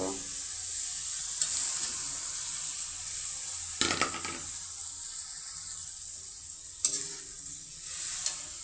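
Meat frying with spices in a pan for a meat and cabbage dish, a steady close hiss of sizzling with occasional louder stirring scrapes, no voices.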